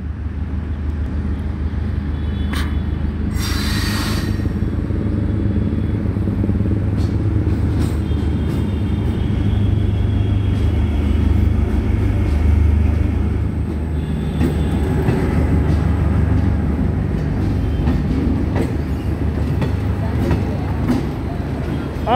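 The Bareilly City–Tanakpur DEMU train rolls past at a station, a loud sustained rumble with rattling wheels close by, while a voice speaks over it.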